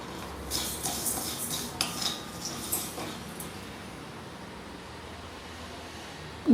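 A spoon stirs black urad dal being dry roasted in a pan, making a series of close, irregular scraping clinks for a few seconds before fading into quiet.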